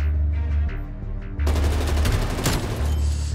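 Automatic fire from an XM4 rifle in Black Ops Cold War rips out as a dense, loud burst after a short, quieter lead-in, sustained rapid shots filling the remainder without pause.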